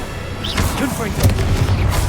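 A Confringo explosive spell blast in the video game Hogwarts Legacy, a loud booming burst with rumbling impacts mixed with other game effects, while a person talks over it.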